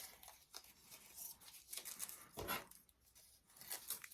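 Crepe paper being cut with scissors for a pine cone craft: a few soft, crisp snips and rustles, quiet and close, with no talking.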